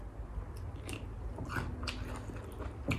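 Biting and chewing crunchy cooked flower buds, crisp close crunches repeating over a few seconds with no talk.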